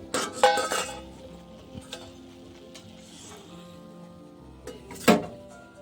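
Fried papri pieces are lifted one by one out of a pan, with a few sharp metal clinks and scrapes of a utensil against the pan, spaced out over a quiet sizzling background.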